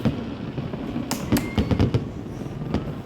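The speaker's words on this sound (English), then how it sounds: "Here comes the fireworks." Fireworks burst outdoors at a creekside National Day celebration in the UAE, a scattered series of sharp cracks and pops over a background crowd murmur, moderately distant.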